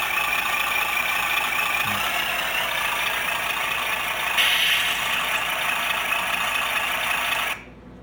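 A steady engine drone plays continuously from a small speaker on a WPL B24 RC truck, with a brief rise partway through before it cuts off abruptly.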